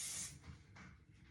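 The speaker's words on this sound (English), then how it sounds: "I'm going to spray it real good" Hairspray sprayed onto hair styled in a high curly bun: a short, close, loud aerosol hiss that bursts at the start and quickly fades, leaving soft low rustling.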